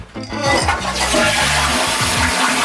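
A Japanese toilet flushes loudly up close, with water rushing and refilling through the small sink basin built on top of the tank, a continuous churning gush for a few seconds.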